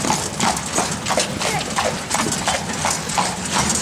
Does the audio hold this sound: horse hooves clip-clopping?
yes